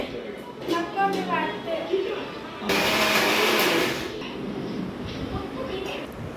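A mixer grinder whirs loudly for about a second and a half, grinding besan batter with water for dosa, between stretches of nearby talk.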